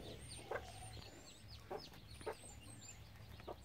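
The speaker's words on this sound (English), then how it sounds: "We have chickens." Several chickens cluck quietly at a short distance, letting out soft, scattered bursts of clucks every second or so over faint outdoor background noise, with no talking.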